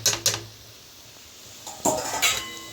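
A metal lid is set onto a pan of frying ivy gourd with a few close clanks and clinks, a quiet pause, then another burst of rattling metal contact.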